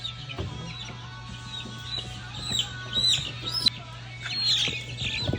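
Hens cluck softly and intermittently over a steady low hum, with a few sharper bird calls and chirps scattered throughout.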